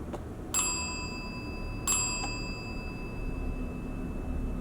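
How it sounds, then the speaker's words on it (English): A small bell rings twice with clear, bright metallic dings, each leaving a short ringing tail, over a quiet room hiss. "Whoever's ringing that bell"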